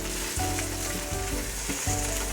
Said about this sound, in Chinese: 让它煎一下，等下再来翻面